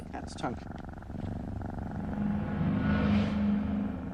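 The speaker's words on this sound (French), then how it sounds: "Et ces ronronnements, c'est forcément de l'amour, non?" An adult cat purrs while being stroked, a low rhythmic rumble that builds steadily and stays close and clear, with a voice speaking faintly at the start.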